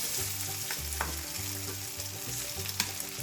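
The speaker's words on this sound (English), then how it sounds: "So we're gonna cook this, and I don't want to overcrowd my skillet here, so we're gonna cook a little bit at a time." Pieces of pepper steak meat frying in a hot skillet, a close steady sizzle with bursts of crackle and short stirring scrapes that come and go in an uneven rhythm, with no talking.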